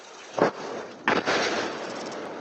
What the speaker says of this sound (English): This home security camera more than 10 miles away, capturing the sound and shockwave of the blast.